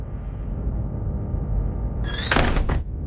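A door in the Granny Chapter 2 horror game creaks open with a short, bright squeal and a thunk near the end, following a stretch of quiet low ambient hum.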